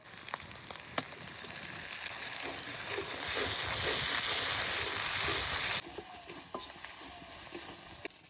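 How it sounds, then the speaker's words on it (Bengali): A cumin and coriander paste fries with ginger, garlic and onion in a pan, giving a steady hiss that swells into louder sizzling, then drops back with light stirring clicks. "আদা রসুন পেঁয়াজ একটু ভেজে নিয়েছি এবার জিরে ধনে বাটা দিয়ে দেবো"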